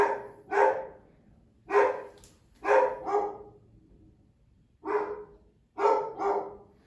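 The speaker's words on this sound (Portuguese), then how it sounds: "Minha cachorra latindo para variar, né?" A dog barks in short doubled bursts, six or so sharp barks in pairs spaced by quiet gaps, fairly close and clear with no voices over them.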